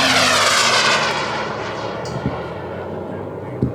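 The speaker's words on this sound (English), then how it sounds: "That's about 25 miles an hour of a plane that can go 10 times that speed." An Elite Aerosports Picaro aerobatic plane drifts slowly past at low speed, its engine a loud, steady drone that gradually fades as it moves away, with a couple of brief knocks near the end.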